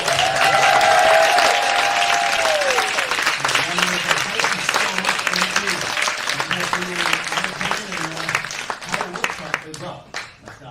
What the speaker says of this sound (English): can I get a round of applause for all